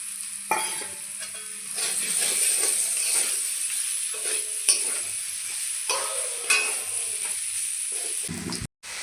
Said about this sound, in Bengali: ভেজে রাখা আলু দিয়ে দিচ্ছি।